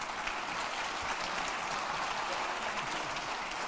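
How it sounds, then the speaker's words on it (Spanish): Steady clapping from an audience at a family business award ceremony honoring a spice company, an even, continuous patter of many hands throughout. "Un aplauso"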